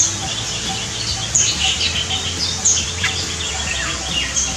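Birds in an outdoor aviary give scattered high chirps and short calls, some near and some farther off, over a low steady background hum.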